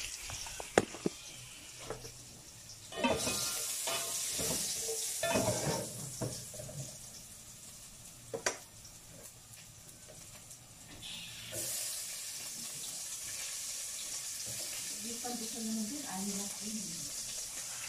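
Garlic sautéing in a hot pan gives off a crackling sizzle that swells in two long stretches, with clatters and quieter gaps between them.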